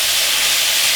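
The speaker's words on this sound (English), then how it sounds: "Got our sausage cooking over here." Sausage cooking in a pan gives a loud, steady, close sizzling hiss without a break, no voices over it.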